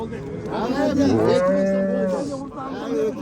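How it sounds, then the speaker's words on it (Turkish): Dairy cows with calves moo at a livestock market in Aral, giving one long, loud, drawn-out lowing call near at hand, followed by a second, shorter moo at the end. "Balasi bor, to'rpog'i bor sigirlar."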